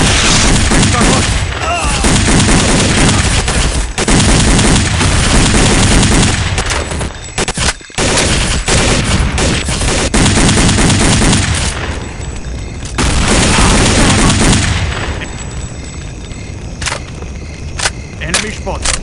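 Dense, continuous gunfire in Counter-Strike Condition Zero Deleted Scenes during a motorcade assault mission: loud automatic bursts and heavy booms rattle almost nonstop, briefly thinning out before surging again.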